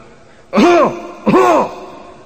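A preacher imitates a cough with his voice, making two loud, close, rasping throat-clearing coughs, each about a third of a second long, separated by a short pause.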